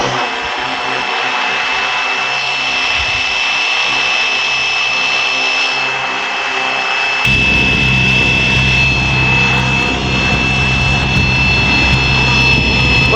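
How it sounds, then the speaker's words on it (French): Fly Wing FW450 V3 RC helicopter in flight, a steady high-pitched rotor and motor whine with a constant buzzing tone that grows louder and fuller partway through, continuous throughout. "Donc l'hélico monte un peu, donc vous le voyez pas, je pense."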